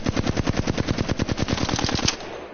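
Flatline heavy rifle from Apex Legends firing one sustained full-auto burst of about twenty rapid, evenly spaced, loud shots that stop near the end, leaving a brief fading tail.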